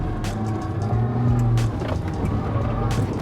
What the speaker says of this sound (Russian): Три седана только что мы раздавили.